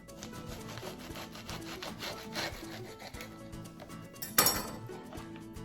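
Knife slicing through American flag Rice Krispie treats, soft repeated rubbing and sawing strokes with a sharper clink near the end, close and fairly quiet.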